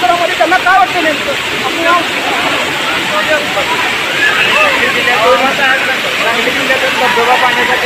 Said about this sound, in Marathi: या ठिकाणी राऊतवाडी धबधब्याच्या परिसरामध्ये आलेले आहेत